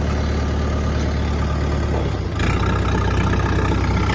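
A Kentavr DV tractor engine chugs steadily at idle, close and loud, with a brief dip and clunk partway through as a gear engages before the engine settles back into its rhythm.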